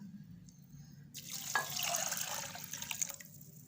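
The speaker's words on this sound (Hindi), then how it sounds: "इसके बाद हम इसके अंदर पानी शामिल कर देंगे जो इसमें था" Water splashes and gurgles as it pours into a pot for a couple of seconds, close by, over a low background hum.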